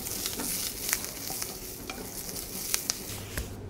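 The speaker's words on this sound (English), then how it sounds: "Next, we can saute some cherry tomatoes for garnish." Cherry tomatoes with thyme sautéing in a pan, a continuous light sizzle broken by several sharp scrapes and taps of stirring, close and without talk.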